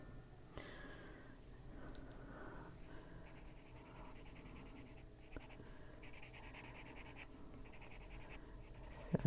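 Dark brown colored pencil strokes scratching lightly across paper, a steady soft rasp close up with faint rhythmic texture throughout.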